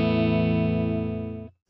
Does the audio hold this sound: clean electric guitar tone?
yes